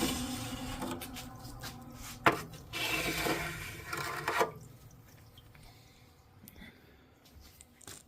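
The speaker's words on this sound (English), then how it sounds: "We'll scrape off the oil, take a look at it." Cutting oil is scraped off a freshly cut moss agate slab in rough, close rubbing and rasping strokes with a sharp knock midway, then the scraping fades to quieter handling.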